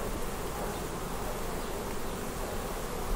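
Honey bees at their hives during a sunflower nectar flow create a dense, steady buzzing hum that fills the air continuously and close up, with no voices.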